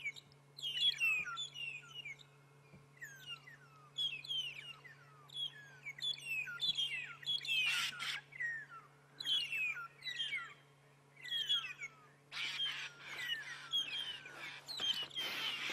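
Starlings chirp and whistle in quick, overlapping phrases during a dawn safari sighting in the Sabi Sand reserve, with bursts of calls coming close together and a steady low hum underneath.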